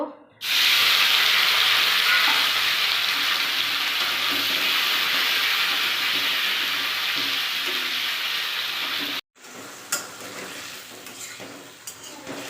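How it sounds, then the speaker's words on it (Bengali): Paneer cubes go into a hot pan of oil and burst into a loud, dense sizzle that holds steady, then cuts off abruptly and returns as quieter crackling and faint pan clinks. "কড়াই গরম হয়ে এসছে পনিরগুলো ঢেলে দিব"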